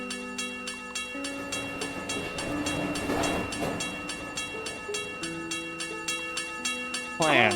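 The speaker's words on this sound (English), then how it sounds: "Wait, Poyo, the train!" A train passes in a VRChat social lobby, a rumbling wash of rail noise swelling in the middle, heard under music-like tones and a brief spoken word.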